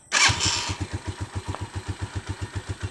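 A motorcycle engine, freshly timing-adjusted, catches with a brief burst, then settles into a smooth, even idle with a regular, steady putter close by.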